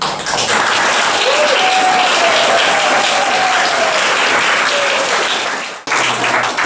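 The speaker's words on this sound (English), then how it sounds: "give a round of applause to everyone you've seen" Loud, steady applause from a crowd at a walkers' gathering during Great Big Green Week, sustained for several seconds with a brief dip near the end before resuming.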